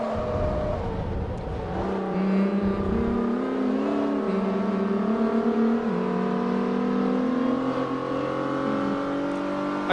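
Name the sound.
race car engine revving in video game Forza Motorsport 3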